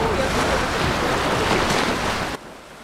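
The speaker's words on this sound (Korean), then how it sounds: "파도 소리 들으면서 바다 한번 눌러보시고요." Winter sea waves wash against the seaside pier at Oido, a steady broad roar mixed with wind buffeting the microphone that drops off abruptly near the end.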